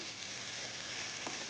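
Mint and coriander leaves sautéing in hot oil for quail biryani, a steady close sizzle and crackle that holds evenly throughout with no talk.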